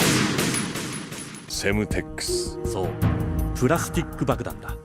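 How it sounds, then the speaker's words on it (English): Guards shooting in a Metal Gear Solid video game: continuous volleys of gunfire beneath game music and effects, steady and fairly loud throughout. "these invisible guards shooting at you at the top don't exist in the final version of the game"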